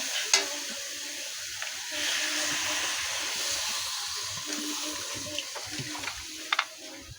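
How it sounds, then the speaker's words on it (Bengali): Water goes into a pan of frying shrimp, setting off a sudden steady hiss of steam and sizzling that carries on with a few light scrapes and clinks near the end. "আবার পানি দিয়ে দেবো পরিমাণ মতো।"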